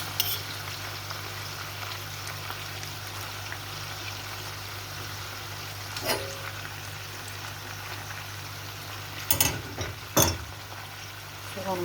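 Onions already fried once are tipped back into a hot pan, giving a steady, moderate sizzle with a few louder stirring scrapes and clatters near the end; a faint low hum runs underneath.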